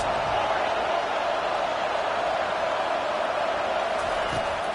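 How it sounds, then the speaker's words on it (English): A college football stadium crowd roars loudly and steadily for several seconds, a dense wall of noise cheering on the home defense. "Listen to this crowd just shaking the girders of this place trying to help their defense."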